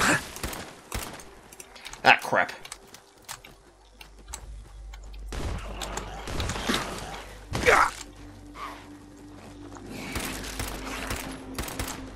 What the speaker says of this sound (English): Running and shooting is not helping.